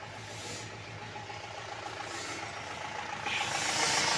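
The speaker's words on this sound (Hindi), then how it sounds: "गाड़ी का इंजन साइलेंट नहीं है।" Mahindra Bolero pickup diesel engine idling roughly and hunting, not running quietly, a steady close rumble with a slight swell in loudness toward the end.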